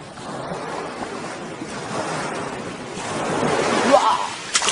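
Sea waves washing in a broad, rushing surge that swells toward the end, with wind across the microphone and a voice speaking over it.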